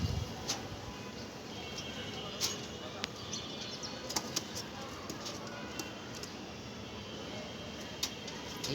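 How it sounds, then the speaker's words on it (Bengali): Pigeons being released flap their wings in a steady soft rustle, with sharp clicks and wingbeat bursts scattered through about nine seconds of faint outdoor background. "এই যে কবুতরটা ছেড়ে দিলাম"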